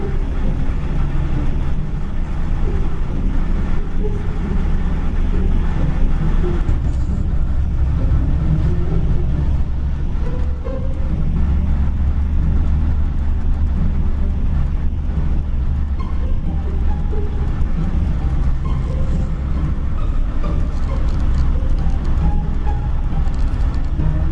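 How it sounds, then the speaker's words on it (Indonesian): A new ANS Luxury Class coach's Euro 4 diesel engine, running on cheap biodiesel and short of power, labors uphill with a low, steady rumble and drone, heard from inside the bus amid road and wind noise. "Gak ada tenaganya mobil ini pas lagi nanjak."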